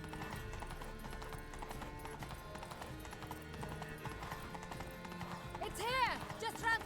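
Horse hooves clip-clop steadily in the Witcher 3: Blood and Wine video game, a moderate rhythmic trot mixed under game music and a speaking voice, with a brief whinny near the end.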